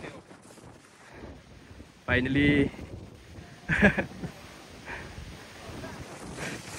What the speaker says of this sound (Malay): Angin kuat gila.